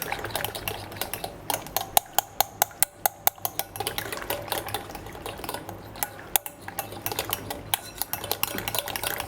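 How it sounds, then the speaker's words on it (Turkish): Sauce is poured slowly into lentil soup while a utensil stirs it in a pot, giving many sharp, irregular metallic clinks and taps over a soft, continuous background, with no voices. "Hazırladığım sosu yavaş yavaş döküp bir taraftan da karıştırıyorum."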